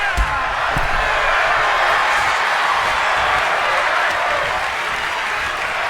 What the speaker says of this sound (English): The crowd is enjoying this one here in Hammerstein Ballroom.